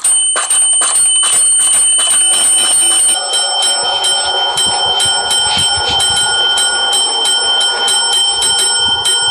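Bell on a Nerf shooting target rings sharply again and again as foam rounds hit it, a rapid series of bright metallic dings that is dense at first and then more spaced out.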